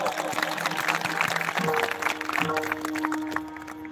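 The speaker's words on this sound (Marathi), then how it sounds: "म्हणून जे संयोजक आहेत या सगळ्यांसाठी जोरदार टाळ्या वाजवा" Applause from a gathered audience for the event organisers, a dense steady patter of many hands clapping, with sustained musical tones running underneath throughout.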